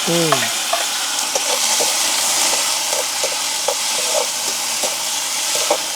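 Onion with dried and green chillies frying in hot oil with mustard seeds, a steady hiss and crackle punctuated by sharp pops and clinks of stirring, close and continuous with no talk.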